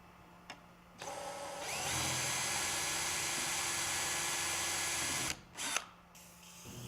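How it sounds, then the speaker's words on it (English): A power drill with a number 30 bit whirs steadily for a few seconds drilling mounting holes, starting and stopping abruptly, with a brief second burst near the end. "Locate and drill the 12 mounting angles as shown in the construction manual."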